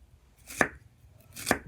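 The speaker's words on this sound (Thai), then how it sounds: "ก็จะหั่น" Two crisp knife chops on a cutting board while slicing vegetables, evenly spaced about a second apart, close and clear with no talking.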